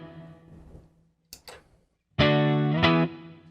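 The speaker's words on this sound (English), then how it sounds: "That's a nice clean boost" Electric guitar through a clean boost on a Pod Go: a faint decaying tone first, two short muted scratches, then a loud bright chord rings out, restruck once, before fading.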